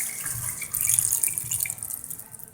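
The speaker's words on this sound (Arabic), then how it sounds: "في المرحله دي بضيف حوالي 3 كوبايات ميه" Water poured in a steady rush from cups into a cooking pot of chicken and lightly caramelized onions for Korean spicy braised chicken, a continuous splashing flow that swells midway and then eases off.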